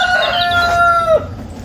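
A rooster crows once, loud and close, its long drawn-out call falling off at the end, on an off-grid homestead where the chickens are kept in a fully wired mobile run by an orchard.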